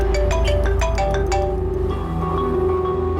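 A bright electronic ringtone plays a quick repeating melodic pattern, loud and close, then fades into a lower sustained tone.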